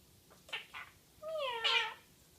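A Quaker parrot imitates a cat's meow: two short, soft chirping notes, then a drawn-out, wavering meow that rises and falls, close and clear against a quiet room.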